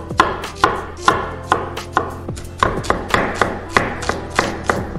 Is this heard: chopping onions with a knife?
yes